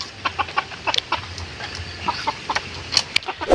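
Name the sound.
brooding hen clucking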